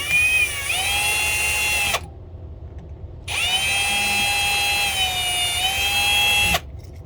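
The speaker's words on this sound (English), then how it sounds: "This one seemed to drill on an angle" A power drill whines loudly in two long bursts while drilling out a diecast toy car's rivet, pitch sagging slightly under load, with a short pause between them.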